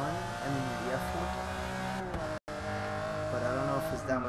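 Ferrari Enzo and LaFerrari V12 engines scream loudly in a Forza Motorsport track race, a continuous high revving whine with a sharp momentary cutout at 2.4 seconds, and a voice talks over it.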